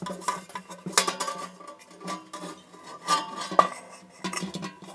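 Metal lid of an LED high bay factory light being lifted open during a teardown, giving a series of light clinks and scrapes of metal, close and fairly quiet, with no talking.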